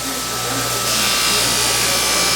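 A fabric buffing wheel loaded with 120 grit compound spins against a knife blade, giving a loud, steady motorized whir and rough grinding hiss that builds slightly partway through, with a low hum underneath.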